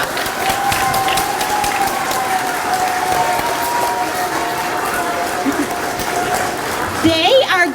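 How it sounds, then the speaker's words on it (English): School assembly audience applauding first graders and their teachers, dense continuous clapping from a large crowd throughout, loud and even, with some voices mixed in. "let's give them a round of applause"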